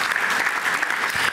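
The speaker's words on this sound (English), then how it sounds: "give our elected officials a round of applause" Dense, steady applause from an audience at a school district recognition event, many hands clapping at once in a continuous wash of sound.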